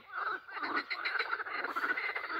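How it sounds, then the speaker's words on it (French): A frog croaks loudly and steadily in a rapid, pulsing run of calls, close and dominant with no other sound. "Une grenouille qui chante à fond."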